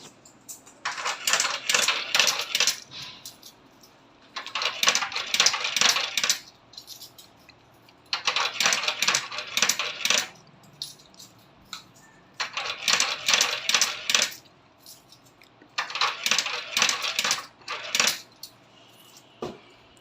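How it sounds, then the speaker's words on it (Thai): Thai five-baht coins rattle and clink into a metal coin box in five separate bursts of rapid dropping, each lasting about two seconds with short pauses between, close and fairly loud. "ครั้งแรกหยอดเหรียญห้าก่อนนะครับ ผมยี่สิบเหรียญนะครับ"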